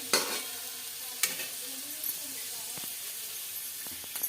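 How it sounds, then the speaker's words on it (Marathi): Fasting khichdi with potatoes is stirred in a hot pan, a soft continuous sizzle broken by several sharp scrapes and knocks of the spoon against the pan at irregular intervals. "आपण इकडे खिचडी परतायला टाकली म्हणजे बटाटे परतू राहिले खिचडी परतायची आहे"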